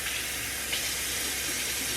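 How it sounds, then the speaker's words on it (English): Hot water runs steadily from a tap into a container, a continuous close-up hiss and splash of filling with no pauses and no talking. "when your water's quite hot, you just fill it to the line"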